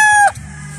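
The loud, close tail end of a gamefowl rooster's crow at a game farm breaks off sharply and gives way to quiet background.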